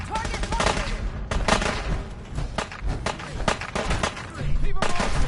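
Rapid automatic gunfire from the video game Fallout 4 rattles in dense, loud bursts almost without pause, mixed with heavier thumping shots, while voices speak over the fighting.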